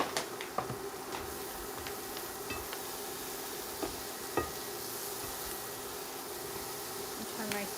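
Food sizzles and crackles in a hot pan as it is stirred, with a steady frying hiss punctuated by sharp clicks and taps of the utensil.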